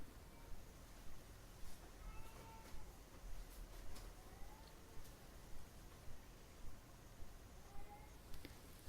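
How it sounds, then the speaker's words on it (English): A cat meows a few times, faint and somewhat distant, over a steady low background hum. "Someone should attend to the cat."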